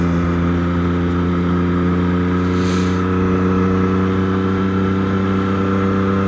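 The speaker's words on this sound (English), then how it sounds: "Hear how this bike just purrs." Triumph Street Triple 765 motorcycle engine running smoothly at steady revs on a road ride, a loud, even drone with strong steady harmonics and no talk.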